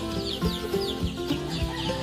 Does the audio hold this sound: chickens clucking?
yes